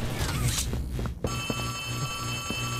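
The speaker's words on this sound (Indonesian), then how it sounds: "ada telepon berdering tuh, di mana tuh?" A telephone rings steadily with a sustained electronic bell tone inside the horror game Poppy Playtime Chapter 3, preceded by a few seconds of ambient game noise and soft thuds.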